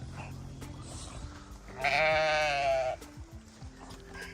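A single sheep on a family homestead lets out a clear wavering bleat lasting about a second, fairly close, with scattered faint background noise around it.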